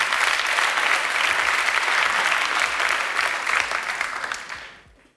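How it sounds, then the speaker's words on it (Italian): Steady applause from a small audience, a dense wash of clapping that holds evenly and then fades out at the end. "Con un applauso."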